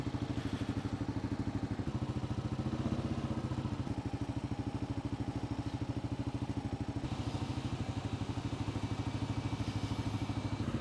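Motorcycle engine while riding, with a steady, close, rapid pulsing engine note that holds throughout at an even level and no voices.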